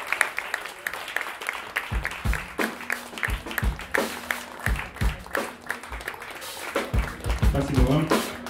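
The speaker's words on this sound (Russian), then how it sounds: "Продолжаем хлопать." An audience claps at a live concert by a comedy music trio, with sharp, fairly rhythmic handclaps that swell and fade, mixed with a voice talking over the applause.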